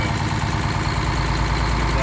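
A Detroit Diesel engine in a Loadstar truck idles with a steady, pulsing low rumble and rapid rhythmic knocking throughout; the engine has exhaust manifold leaks.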